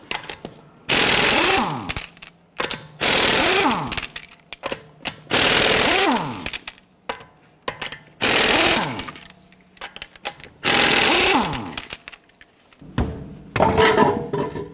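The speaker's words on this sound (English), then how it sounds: "Using our 22mm socket, let's loosen and remove our lug nuts." Impact wrench with a 22mm socket loosening lug nuts on a 2009-2015 Honda Pilot, several loud rattling bursts of a second or so each, separated by short pauses, close to the mic.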